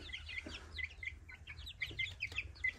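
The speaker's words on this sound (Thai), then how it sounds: "อันนี้เป็นไก่ที่แบบว่ามันมาพร้อมอันนี้แหละทุกคน" Hens and young chickens on a rural garden plot cluck and chirp in quick, uneven bursts, faint and fairly distant, with a low background hum and no talking.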